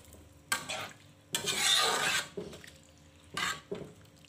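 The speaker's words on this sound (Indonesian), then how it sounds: "Kita aduk biar merata bumbunya" A spoon stirs Javanese mie godok with mustard greens in a pot of broth, giving several separate bursts of scraping and sloshing with short quiet gaps between them, close and fairly loud.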